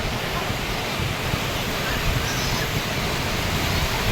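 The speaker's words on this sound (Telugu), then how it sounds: "అలలు పొంగి వచ్చి అలలు గ్యాంగ్ అంతా దిగిపోయినారు." Sea waves at Mypadu beach near Nellore make a dense, steady roar of surf mixed with wind buffeting the microphone, with no clear breaks or talking.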